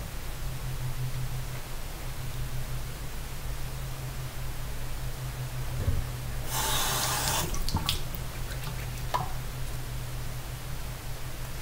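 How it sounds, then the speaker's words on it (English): Water splashes in a brief burst of wet spattering over steady running-tap hiss, followed by a few drips and small splashes. "some water on my face"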